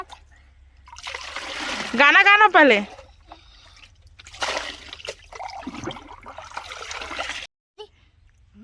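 Water splashes and trickles while a child bathes, with irregular splashes mixed under loud talking and a short sung phrase.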